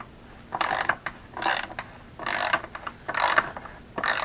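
Ratchet wrench snugging bolts on a Yamaha R3 motorcycle during restoration: five close, loud bursts of rapid clicking, each about half a second long, with short pauses between them and no talk.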